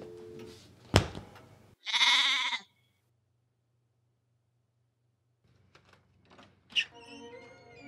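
A sheep bleats once, loud and close, between a sharp knock and later faint rustling, with a second fainter cry near the end.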